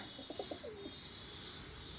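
Soft cooing from Punjabi Malwai pigeons in a coop, a few low throaty calls, heard faintly over a steady background hum.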